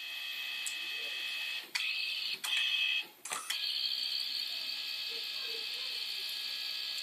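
A photo printer runs a colour pass, giving a steady high-pitched mechanical whine broken by a few short clunks and ratchet-like clicks as the paper shifts, with a speaker's voice faintly underneath.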